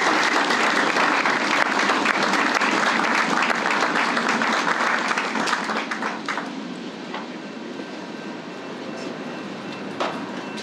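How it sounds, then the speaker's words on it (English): Outdoor crowd applause at a street corridor groundbreaking ceremony, dense clapping that tapers off after about six seconds into scattered claps, with a faint steady hum underneath. "Give them a round of applause."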